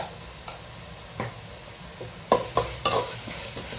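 Mutton with yogurt stirred in a pan for biryani, a spoon scraping through it in a few irregular strokes that grow sharper and louder toward the end, over a low background sizzle.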